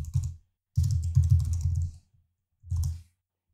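A search is typed on a computer keyboard in three quick bursts of close, crisp key clatter separated by short silences, with no talk.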